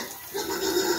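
A pregnant sow on a farm gives a short, low grunting call that rises out of quiet background noise and holds briefly, close and moderately loud, with no talk over it.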